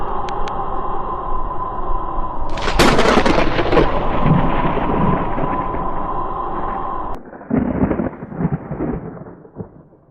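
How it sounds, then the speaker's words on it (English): A loud thunder clap crashes in during a stormy night, with a broad rumbling roar and heavy wind noise sustained for several seconds before easing into gusty rumble. "Then heavy winds started up outside, and there was a clash of thunder and lightning."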